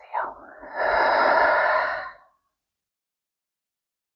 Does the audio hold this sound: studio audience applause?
no